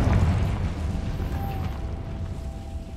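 A Confringo spell explodes in Hogwarts Legacy, a rumbling burst loudest at the start that decays into a low, steady roar, with no talk.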